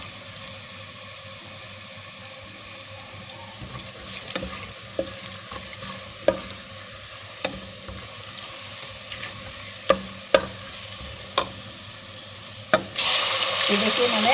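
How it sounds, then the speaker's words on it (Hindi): Ginger and garlic frying in a pot for pulao, with a steady low sizzle and scattered clinks and scrapes of stirring throughout, growing brighter and hissier near the end, no speech. "ये देखिए मैंने अदरक लहसुन डाल दिया गाइस। अब ये थोड़ा मैं भूनूंगी ताकि इसका कच्चापन ख़त्म हो जाए।"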